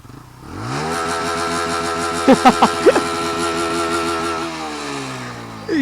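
A stock-exhaust TVS Apache RTR 160 motorcycle idles close by, then its engine climbs and holds a steady higher rev, with a quick burst of several sharp throttle blips midway before settling and dropping away near the end.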